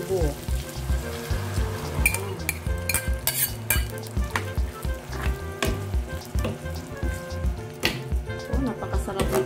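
Mung beans for ginisang monggo with shrimp, tofu and pork sizzle in a pot while a utensil clatters and scrapes against the metal in a busy, continuous rhythm, loud and close.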